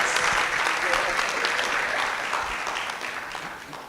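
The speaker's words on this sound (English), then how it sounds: "please take a moment to give yourself a round of applause" An auditorium audience at a medical leadership symposium of the Ghana College of Physicians and Surgeons gives a round of applause, broad and steady clapping from many hands that slowly tapers toward the end.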